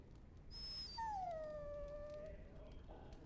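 A dog in Dragon Age: Origins lets out a single long, high whine that slides downward and fades, heard faintly over a low, steady background rumble.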